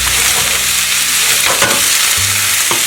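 Onions frying in a pan with tomato and sardine sauce ingredients, a steady loud sizzle running throughout with occasional stirring scrapes.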